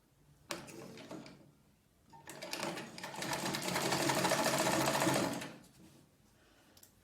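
A sewing machine joins a Victorian corset seam at a half-inch allowance: a short burst, a pause, then a close, steady whirring run of about three seconds that winds down, with no talk.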